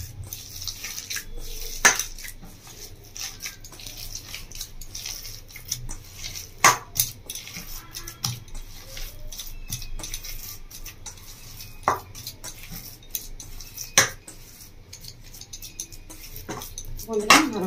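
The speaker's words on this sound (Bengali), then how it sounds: "ভালো করে মেখে নেব।" Red lentil batter seasoned with turmeric, chili powder and salt being mixed by hand in a bowl, giving soft continuous squelching and stirring with intermittent clinks and taps against the bowl, close and moderately loud.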